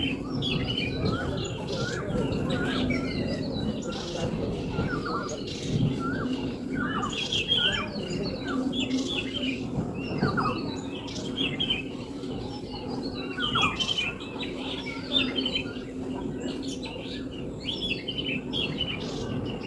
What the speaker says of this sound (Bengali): আর এত সুন্দর পাখির ডাক